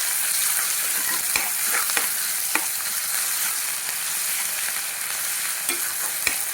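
Okra cooks with ginger and turmeric in a pan, a continuous close sizzle broken by sharp scraping taps of a spoon stirring at irregular intervals, with no voices.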